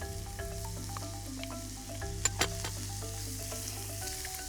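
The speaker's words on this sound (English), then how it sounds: "you want to saute these ingredients until golden brown" Bacon, jalapeño chilies and chopped onion sauté in a pan with a steady close sizzle. A couple of sharp utensil clicks sound midway, and no voices are heard.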